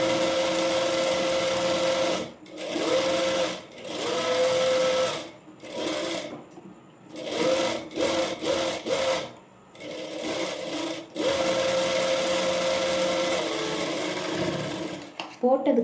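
A sewing machine stitches a blouse sleeve in a tailoring class, running in steady whirring bursts with short pauses between them as the seam is sewn twice, while someone talks over it.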